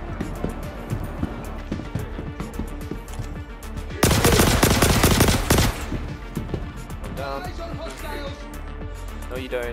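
Rapid automatic gunfire in the video game Star Citizen during a bunker fight, a dense burst of shots in the middle over ongoing game sounds, with someone talking throughout.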